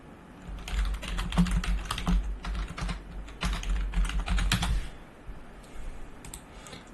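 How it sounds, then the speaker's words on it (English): Fast bursts of close, crisp keystrokes on a computer keyboard clatter for about five seconds in uneven clusters, then stop into quiet room tone. "Let me just go ahead and type something on my other window here."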